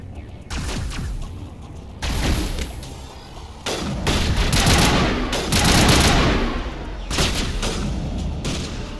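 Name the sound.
gunshots in the video game Mass Effect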